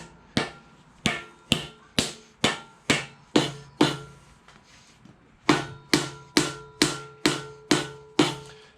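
Heavy hammer blows seat a Dana 60 differential carrier, sixteen sharp metallic strikes in a steady rhythm with one brief pause midway, loud and close with no talking.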